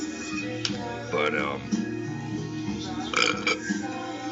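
A man lets out long, loud beer burps, two drawn-out belches with a short gap between them, close to the microphone.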